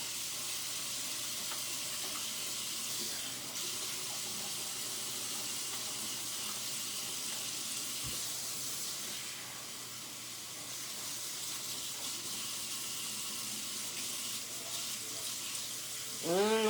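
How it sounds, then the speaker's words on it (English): Tap water runs steadily into a sink for a long stretch as soapy hands are rinsed, a constant hissing splash that fills the whole span, with a brief louder burst of water near the end. "Make sure you rinse all that soap off so your fingers won't be itchy."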